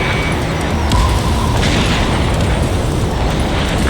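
A UAV drone bursts apart after being shot down in Ace Combat 7, a loud, dense boom that rolls on steadily for several seconds over continuous jet and battle noise.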